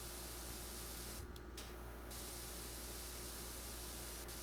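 A pressure washer hose in PowerWash Simulator 2 hisses in a steady, quiet, unbroken spray, with a brief dip partway through.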